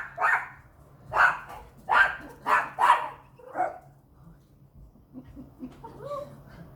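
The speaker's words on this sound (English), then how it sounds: "that's my dog barking at" A pet dog named Carla barks at birds indoors, five loud sharp barks in a quick irregular run, then fading to softer yips and whimpers near the end.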